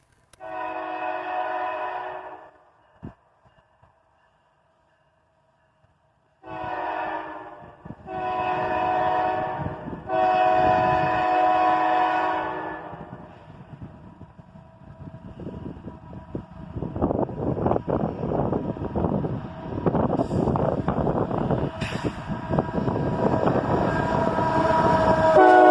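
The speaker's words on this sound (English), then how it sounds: "A quick horn salute as an ET-44AH leads this southbound train into the siding." A CSX freight train led by an ET-44AH locomotive sounds its horn in a few short, loud blasts as it heads southbound into a siding, followed by growing rumble and clatter of the passing train that swells toward the end.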